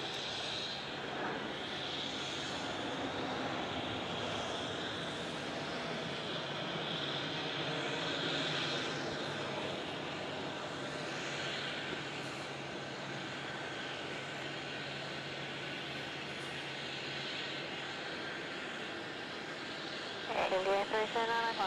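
A BAe 146 arriving at Melbourne Airport from Adelaide gives a faint, steady jet drone that holds for the whole stretch, with a brief sharper noise near the end.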